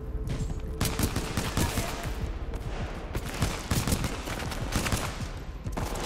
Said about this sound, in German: Baller mal noch ein bisschen, dass du die ablenkst.